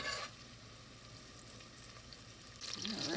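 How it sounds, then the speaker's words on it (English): Onion softening in hot butter in a pan gives a steady, soft sizzle and crackle, close and fairly quiet, with a louder rustle of stirring at the start and end. "the onion will just soften up a little bit in the hot butter"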